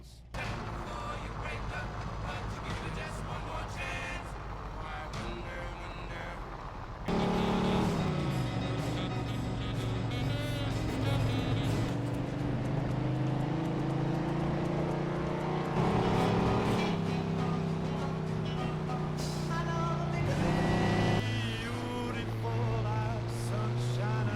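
Old cars driving in the video game Mafia II, with revving engines, gear changes and shifting engine pitch over a steady road rumble, loud and close, while someone talks over much of it.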